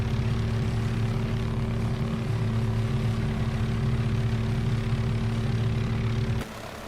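A propeller aircraft engine drones steadily in flight in Microsoft Flight Simulator 2024, an even continuous hum with a pulsing low beat, loud and alone, then abruptly dropping in level near the end.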